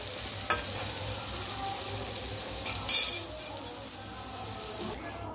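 Potatoes fry in a pan for a home-cooked chicken curry, giving a steady close sizzle with occasional light clinks of a utensil against the pan.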